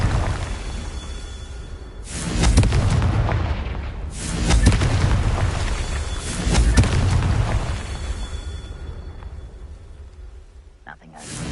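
Confringo spell explosions in the Hogwarts Legacy video game, a run of heavy booming blasts with rumbling tails, several bursts in a row at close range.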